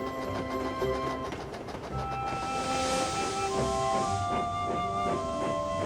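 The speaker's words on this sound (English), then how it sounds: "Gordon and Percy puffed through the snowy countryside, and Gordon didn't show off once." Animated steam engines chug through snowy countryside, with a steady rhythmic rolling and clatter of wheels under light music, and a hiss of steam near the middle.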